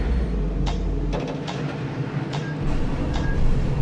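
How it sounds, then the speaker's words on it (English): Continuous rumbling and clattering of a roller coaster on its track in the PC video game Aliens Roller Coaster, with rhythmic metallic knocks and a low mechanical drone throughout. "roller coaster's shaking"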